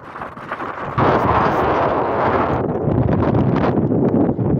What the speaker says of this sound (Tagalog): medyo mahangin, mabigat